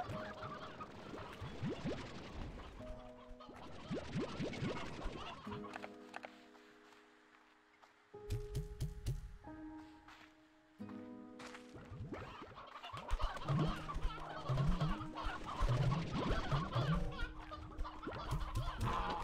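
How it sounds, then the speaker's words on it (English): Sea hens in the Slime Rancher 2 video game cluck and squawk in repeated bursts, layered with bright electronic game tones and chimes throughout. "Sea hens."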